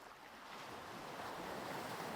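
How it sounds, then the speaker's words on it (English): Distant sea waves wash steadily beside windswept sand dunes, a continuous soft roar of surf mixed with breezy wind and no voices. "with that distant sound of the sea alongside her"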